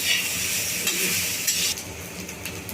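Coriander seeds and dried coconut are dry-roasted and stirred in a pan, giving a close, steady scraping rustle with a soft sizzle and a few light clinks.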